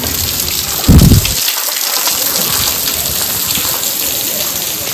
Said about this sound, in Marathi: गुहेच्या वरून असं सुंदर पाणी पडतं